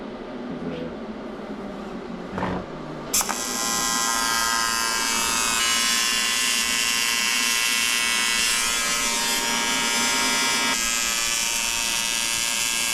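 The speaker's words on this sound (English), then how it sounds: "he's welding it together for me" MIG-style welding on a Nissan S13 engine bay part, a steady loud buzzing crackle that starts abruptly a few seconds in and runs continuously to the end, with a brief clank beforehand and no talk.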